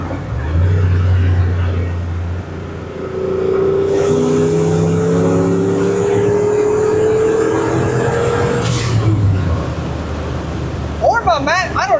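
Turbocharged 331 engine in a 1976 Ford F250 pulling hard under boost, a loud sustained drone with rising tones through the run, then a brief whoosh and a settle near the end.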